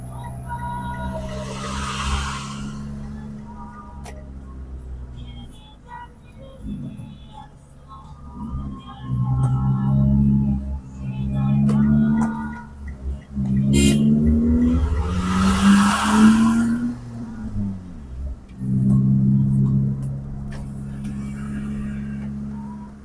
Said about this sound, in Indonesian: Banyak truk yang mendaki, kita usaha lalui saja dulu.